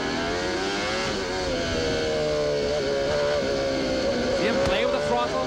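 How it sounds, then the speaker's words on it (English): A 1994 CART Indy race car at the Toronto street race, its driver blipping the throttle: a loud, continuous engine note that rises and falls as the revs are played with, running steadily through the whole stretch. "See him play with the throttle."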